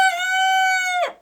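Rooster among laying hens crowing once: a single loud, close, sustained tonal call lasting about a second, ending in a brief rough drop-off.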